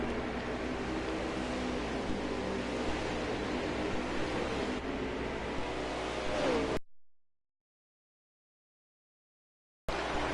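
Race car engines roar in a NASCAR-style racing video game, a dense, steady drone of several engines for about seven seconds before cutting to silence, then returning briefly at the end.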